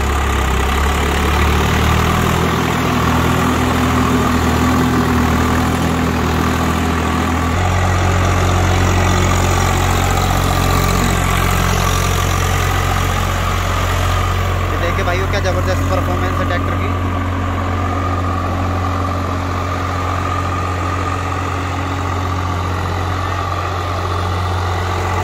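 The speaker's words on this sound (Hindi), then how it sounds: "ट्रैक्टर पर बैठ गए हैं और आरपीएम सेट कर रहे हैं" A tractor engine idles and is held at a set RPM before cultivator work, a loud, steady low drone with a throaty hum that shifts pitch partway through as the revs are adjusted, with someone speaking faintly over it.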